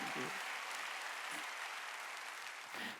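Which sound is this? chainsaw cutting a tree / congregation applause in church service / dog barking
congregation applause in church service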